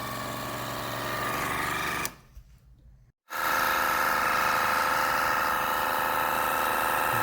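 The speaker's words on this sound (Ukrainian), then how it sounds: "Зараз запустимо двигун." A car engine runs with a steady mechanical hum while automatic transmission oil is pumped in, cuts out briefly to near silence, then starts again louder and continues droning evenly.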